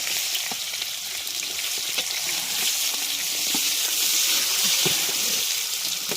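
Onions frying in a large wok for a night feast, a loud continuous sizzle with scattered crackles and stirring clinks close by, no voices.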